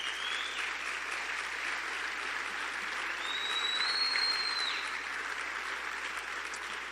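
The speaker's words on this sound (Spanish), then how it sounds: "Dale un fuerte aplauso a Jesús" A church congregation claps for Jesus during a Spanish-language sermon, a sustained, even wave of applause from many people with a faint whistle-like tone rising partway through.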